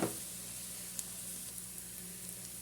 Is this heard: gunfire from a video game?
no